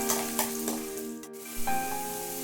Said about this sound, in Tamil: கொஞ்சம் எண்ணெயில் வதங்கிட்டோம்.